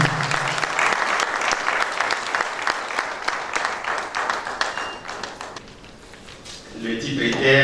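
A church audience breaks into loud, dense applause to welcome a pastor, with sharp claps and some thumps. It thins out and fades toward the end, then a voice begins speaking.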